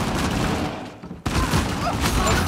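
Dense, continuous gunfire from blind firing in the multiplayer video game Uncharted 4, loud and sustained with a brief drop near the middle before the shooting resumes.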